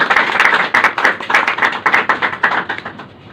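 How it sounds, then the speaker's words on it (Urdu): An audience at a Defence Day school event claps in a steady, rhythmic pattern of sharp, even beats. The clapping carries on for a few seconds and fades slightly at the end, with no talking. "تالی بجا دیں۔"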